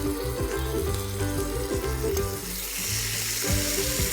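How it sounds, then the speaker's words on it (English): Marinated chicken with no added oil searing on a grill pan, giving a steady, loud crackling sizzle with fine popping throughout, close up and uninterrupted, without any talking. "And hear that sizzle."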